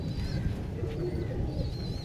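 Kaldum and Kala Sabuj pigeons coo in a loft, giving soft, low repeated coos with a few faint chirps above them over a steady background hum.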